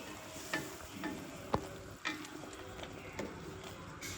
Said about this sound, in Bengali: এবার আমি মশলাটা খুব ভালোভাবে কষিয়ে নেব